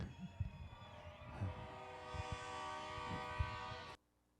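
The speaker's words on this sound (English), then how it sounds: "You know it's a local guy when the train starts going off." A train horn sounds at an evening dirt track race, a steady sustained blast building and holding for a few seconds before cutting off abruptly, with crowd and track noise thumping beneath it.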